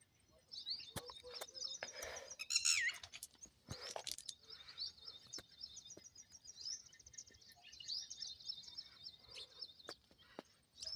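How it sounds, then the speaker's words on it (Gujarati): Many birds chirp and call outdoors, with a steady chorus of high, overlapping tweets and a few louder close calls over faint background noise. "ઘણા બધા પક્ષી આવી ગયા છે."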